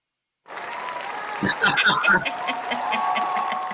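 An applause sound effect triggered from a button during a podcast, a short burst of canned clapping and cheering that starts abruptly after a moment of silence and holds steady to the end.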